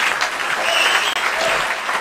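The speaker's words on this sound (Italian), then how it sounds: "un applauso, Anna, su" Steady, dense audience applause for Anna Salsano at a televised poetry event, continuous and close for the whole stretch with only a momentary dip midway.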